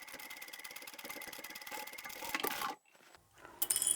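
A sewing machine stitches a seam on a foldable tote bag made with French seams, a rapid close mechanical rattle that runs steadily, then stops abruptly, followed by quieter handling clicks.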